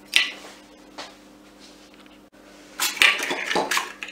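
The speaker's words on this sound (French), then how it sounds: "Je vais casser les œufs un à un" Eggs are cracked one at a time against a bowl during génoise sponge preparation, a few sharp clinks and taps spaced apart, then a busier cluster of knocks and shell crunches near the end, close and without talk.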